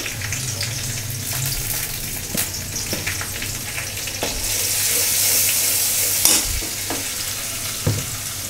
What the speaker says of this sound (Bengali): এখন হলো বসিয়ে দিচ্ছি মাছ, আস্তে আস্তে করে নিচ্ছি